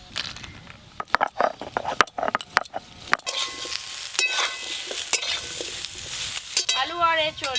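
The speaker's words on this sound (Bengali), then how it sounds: "আলু আর এঁচড় বেশ ভালো করে ভাজা ভাজা হয়ে গেছে" Chunks of potato and young jackfruit fry in a pan, a steady sizzle broken by repeated scraping and clinking stir strokes, close and fairly loud.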